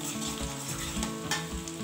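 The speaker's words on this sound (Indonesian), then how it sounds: "Ini saya numisnya pakai minyak sisa dari pas goreng ikan teri." Steady, crackling sizzle of ingredients being sautéed in leftover oil from frying anchovies, while cooking nasi liwet, with continuous frying hiss and faint stirring.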